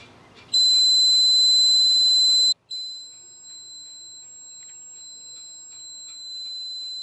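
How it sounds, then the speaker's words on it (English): A steady high-pitched electronic alarm tone from a Tapo DL130 smart lock's left-open alarm sounds loudly, cuts out briefly, then continues as a quieter sustained beep tone with no voices. "we have a left open alarm and set it when it will trigger"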